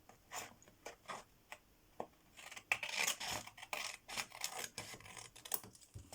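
Close, quiet snipping and rasping of scissors cutting through paper, a steady series of short crunchy cuts with brief pauses.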